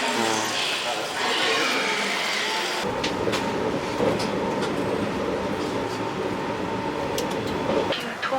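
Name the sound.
Tokyo subway train riding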